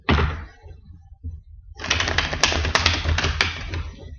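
A deck of tarot cards gets a standard shuffle, with a short riffle burst, a pause and then a longer rapid fluttering run of card flicks and sharp taps, all close and fairly loud.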